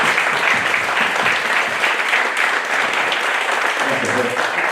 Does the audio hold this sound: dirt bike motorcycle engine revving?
no